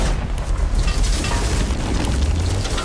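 TNT blast destroying a safe, heard as a loud, sustained roaring boom with dense rumbling debris noise that fills the whole stretch without letting up.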